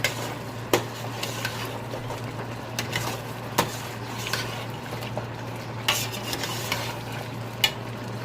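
Chili is stirred into chicken feet frying in a pan, a low steady sizzle with periodic sharp clinks and scrapes of the utensil against the pan, close and fairly quiet with no talking.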